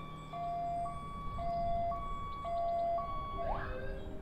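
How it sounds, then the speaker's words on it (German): Ambulance siren in the video game Accident The Pilot, a loud two-tone wail alternating steadily between high and low pitches about every half second, ending with a rising sweep over a low rumbling background. "Da kommt der Krankenwagen."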